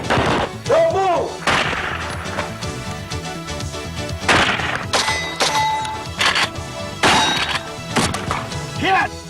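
A Mossberg Cruiser 12 gauge shotgun fired on a training range, several loud sharp blasts spaced a few seconds apart, with a shouted voice and some clattering between shots.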